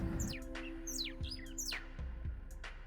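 Bird chirps and sweeping tweets repeat several times over a steady low vehicle rumble during a game drive in Hwange National Park, Zimbabwe; the bird calls ring out clearly, with no talking.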